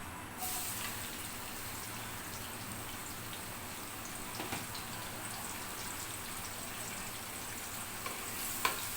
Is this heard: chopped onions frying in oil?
yes